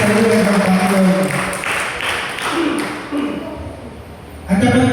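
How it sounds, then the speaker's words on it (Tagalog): A church congregation clapping, a burst of applause mixed with crowd noise, with a preacher's voice speaking over part of it and the clapping swelling again at the end. "Palakpak na po yung naghihintay."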